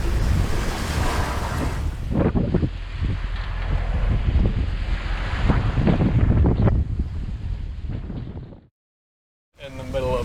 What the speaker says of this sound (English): This has got to be the biggest storm you've ever experienced, right?